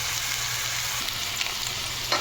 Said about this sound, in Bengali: আমি বেগুনটা ভেজে নিচ্ছি